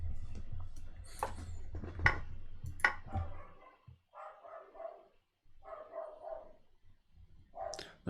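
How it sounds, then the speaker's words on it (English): An excited dog barks several times in sharp, loud bursts, mixed with clinking, dish-like clatter, followed by softer, lower whining or yelping sounds and a final bark. "The dog is excited."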